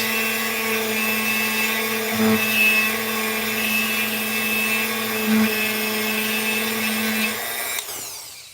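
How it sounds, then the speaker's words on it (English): A Dremel rotary tool with a sanding bit grinds on a cheap guitar, a steady high-pitched whine with a strong droning tone that holds for about eight seconds, briefly bogging down twice under load, then cutting off near the end. "a Dremel with a sanding bit. And I just do this."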